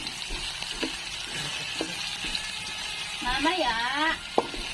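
Garlic and onion sautéing in a pan for bitter melon with egg, a steady sizzle running throughout beneath a voice, with a few light utensil clicks near the end.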